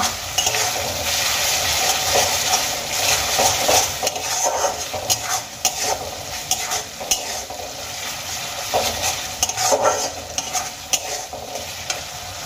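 Onions and grated ginger and garlic fry in a hot pan for an egg masala curry, a continuous sizzle broken by frequent scraping stirs of a utensil against the pan, close and steady, with no talking.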